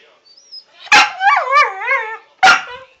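A puppy lets out two sharp, close barks with a whiny, wavering yelp between them, loud and right near the listener.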